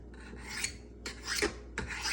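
A kitchen knife drawn across a sharpener in three long rasping swipes, each a close, gritty scrape with brief gaps between strokes and no talking.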